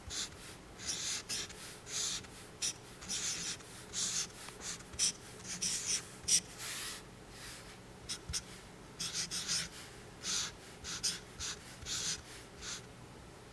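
Pen or marker writing during a maths calculus lesson, quiet repeated scratchy strokes in short bursts with pauses, close up and alone.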